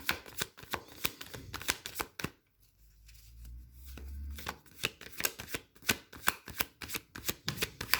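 Tarot cards are shuffled up close in quick papery riffles and flicks, repeated in bursts with a short lull partway through.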